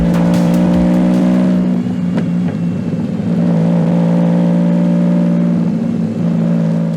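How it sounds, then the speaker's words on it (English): A Lamborghini Diablo's mid-mounted V12 engine revs loudly with a deep, sustained roar, rising and settling in steady waves, close up with no talking. "a mid-mounted V12 engine delivering raw power and spine-tingling acceleration"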